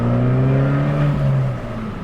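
A loud Abarth car drives close past, its engine note a strong rising drone that peaks mid-pass and then fades slightly as it pulls away.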